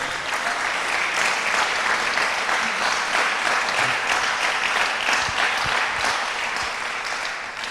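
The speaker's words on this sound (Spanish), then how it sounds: "Dele un aplauso al Señor" Congregation at a church service breaking into loud, sustained applause, a dense continuous roar of clapping filling the room for several seconds.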